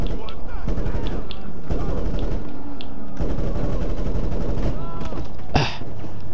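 Continuous dense gunfire in the video game GTA 5 Online, with loud rapid shots rattling throughout over steady background noise and a bright sharp crack near the end.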